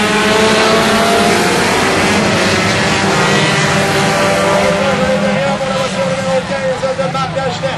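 A field of 4-cylinder race cars roars off the start of a 50-lap race at St-Marcel, Quebec, with a dense, loud, sustained engine drone and revving that builds as the pack accelerates, an announcer talking over it.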